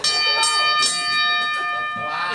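A ringing bell rings out in a few repeated strikes, each leaving a bright, sustained metallic hum that overlaps the next, loud and close.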